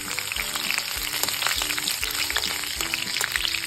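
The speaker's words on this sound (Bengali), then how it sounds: "এবার আমি 1 চামচ মতো রসুন কুচি দিয়ে দেবো ফোড়নে।" Chopped garlic, dried chillies and nigella seeds fry in hot tempering oil for a lentil dal, giving a steady, close sizzle with fine crackling pops and no talking.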